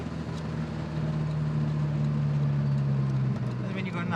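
A modified Opel Kadett exhaust hums as a steady, loud low drone heard from inside the car, with a voice briefly speaking near the end.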